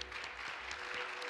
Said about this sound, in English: let's please give him a hand clap